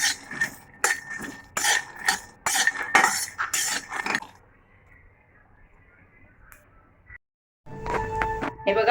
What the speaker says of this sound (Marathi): आता शेंगदाणे आपण गरम करून घेऊया